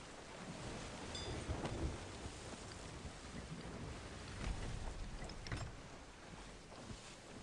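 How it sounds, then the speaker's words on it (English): Heavy rain and rolling thunder of a storm at sea in Sea of Thieves, a dense wash of rainfall with low booming swells rising and falling, no voices. "Only 49 minutes spent in the storm."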